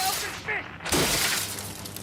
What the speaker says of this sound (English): It's really too bad that Eustache smashes the radio before the song starts.